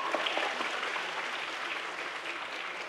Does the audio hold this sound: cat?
no